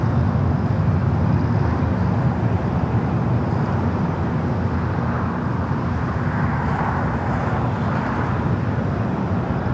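A British Airways jet taking off from LAX's south side roars as a steady, loud broadband rumble that swells slightly midway, with no voices over it.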